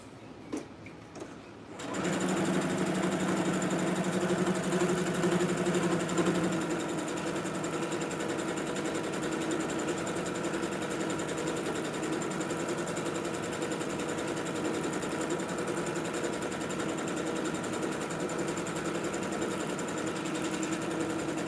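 A sewing machine runs steadily, stitching a long easing thread; after a brief start-up it settles into a loud, continuous, even hum with no talk over it.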